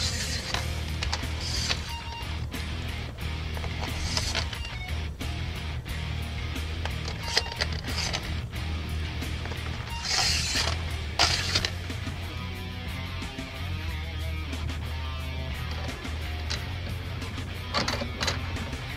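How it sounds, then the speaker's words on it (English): A wrench or ratchet tightening flange nuts on a running board step being fitted to a 2011 Ford F-250, with scattered clicks and creaks over a steady low rumble, close and without speech. "We're going to go ahead and take our flange nuts and tighten her down"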